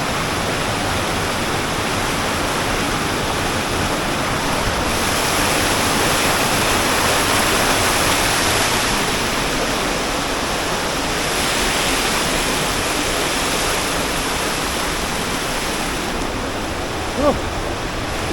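Rushing water from a stream at a waterfall in Istria fills the scene with a steady, close, loud roar that barely changes from start to finish.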